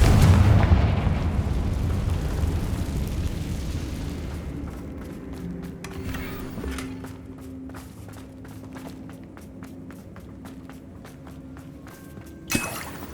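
A fire spell explosion in Hogwarts Legacy erupts with a loud roaring blast that slowly fades into rumbling crackle, faint ticking debris, and a sharp thud near the end.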